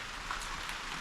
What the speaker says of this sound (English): it's a crazy rain, guys